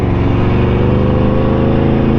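Aprilia motorcycle fitted with an aftermarket exhaust accelerating hard, a loud, close, steady engine roar with wind noise and no talk.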